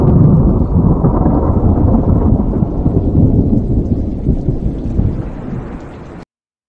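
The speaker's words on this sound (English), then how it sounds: "There was also sound of rain and thunder." An AI-generated rain and thunder effect plays as a loud, steady rumbling roar mixed with the wash of rain, easing slightly before cutting off abruptly.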